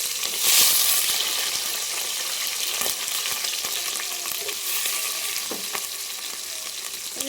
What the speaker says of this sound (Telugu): ఉల్లిపాయ, పచ్చిమిర్చి బాగా ఫ్రై అంతవరకు ఫ్రై చేసేసుకున్నాం